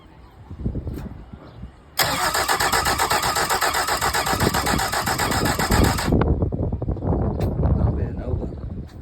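A Mercury 75hp four-stroke outboard motor with plug leads off cranks in one sustained, loud burst of about four seconds without catching, with brief rumbling and handling noise before and after.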